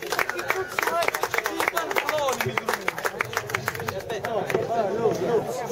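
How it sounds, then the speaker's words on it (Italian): An audience claps steadily in rhythm at the award ceremony of a cart race, close and lively, while voices talk over the crowd. "Un applauso."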